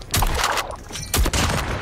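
A BY15 shotgun in a mobile shooter game fires in two sharp, loud blasts about a second apart, each followed by a brief mechanical clatter.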